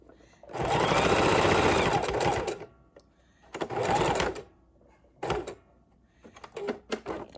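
Sewing machine stitching a small zigzag around lace trim on a junk journal cover: several close bursts of rapid whirring, a long run followed by shorter stops and starts, with soft handling clicks between.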